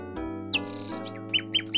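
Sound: nightingale singing in the video game Książę i Tchórz

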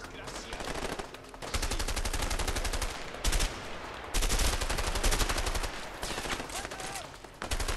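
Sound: gunshots in the video game A Way Out

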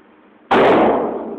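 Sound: gunshot at shooting practice

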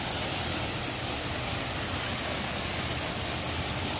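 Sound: high-pressure car washer spray machine spraying water

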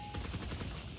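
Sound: heavy weapon gunfire in the video game GTA 5 Online

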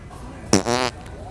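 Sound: fart sound from a prank fart noise device

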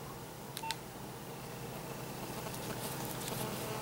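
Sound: telephone dialing to call the operator

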